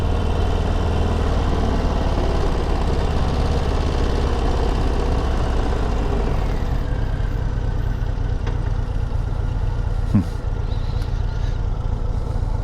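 A Harley-Davidson Low Rider ST motorcycle engine running close by with a loud, steady, deep idling rumble that holds unbroken throughout, with no talking over it.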